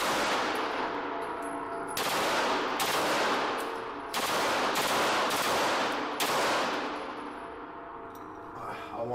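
Glock 19 handgun fired in a series of loud, sharp shots spaced a second or two apart, each with a long ringing echo that trails off before the next.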